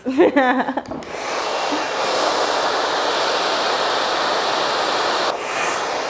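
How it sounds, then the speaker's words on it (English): Hair dryer blowing steadily on a brushed section at the hair roots, a constant loud airy roar after a brief spoken lead-in at the start. "And then we're gonna dry the roots."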